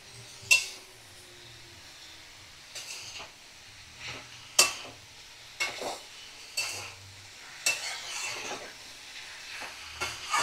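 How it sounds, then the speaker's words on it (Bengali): Bottle gourd sautéing with shrimp in a pan over a medium flame: a soft steady sizzle broken by repeated scraping and clattering stirs of a utensil against the pan, close and irregular. "আমি 5 থেকে 7 মিনিট চিংড়ির সাথে লাউ কষিয়ে নেব।"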